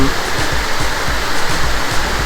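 Waterfall at Huai Mae Khamin in Srinagarind National Park, a loud, steady rushing roar of falling water close by, continuous broadband noise with faint low thumps, no voices.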